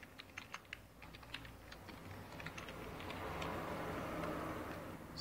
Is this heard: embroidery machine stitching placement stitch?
no